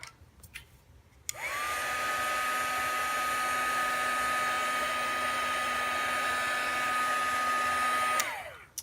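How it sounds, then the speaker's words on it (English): A heat tool blows hot air over wet paint in a workshop, clicking on and running as a steady, loud, even whoosh with a constant whine for about seven seconds before cutting off. "I might just hit that again real fast with the heat tool just to make sure"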